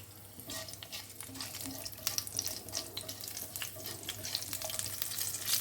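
Green chilies fry in hot oil with panch phoron tempering, a soft crackling sizzle with scattered pops and light stirring, fairly quiet and swelling slightly toward the end.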